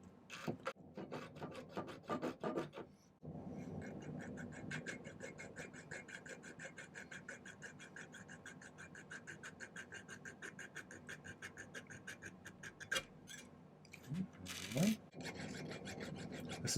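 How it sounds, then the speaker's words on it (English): Quick rhythmic rasping strokes of a jeweler's saw through silver, close and continuous, with a brief pause early on and a few louder scrapes near the end. "I'm going to cut with the jeweler's saw just right through there."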